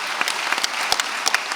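Audience at a 2020 Santa Barbara film festival women's panel applauds steadily, a dense patter of hand claps with a few sharper individual claps standing out, no voices on top.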